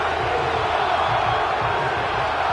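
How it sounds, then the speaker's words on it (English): A stadium crowd in the Madden 25 video game, Miami Dolphins versus Seattle Seahawks, roars in a steady, dense wall of cheering that holds at an even level throughout, with no break or build. "The crowd cranking it up another notch before third and long."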